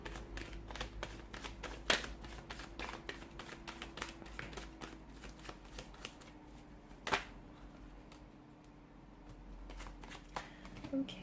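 Tarot cards shuffled by hand, with soft repeated riffling and tapping at close range, quiet overall, and faint speech in places.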